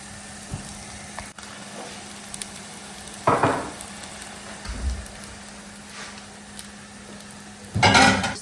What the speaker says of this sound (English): We'll go ahead and just put our tortilla in the pan.